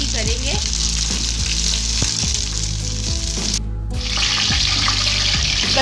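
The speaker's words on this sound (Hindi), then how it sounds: "हम सबसे पहले कचनार को ऐसे फ्राई ही करेंगे" Kachnar (bauhinia buds) fry in hot oil in a home kitchen, with a loud, continuous sizzle and occasional stirring clinks throughout.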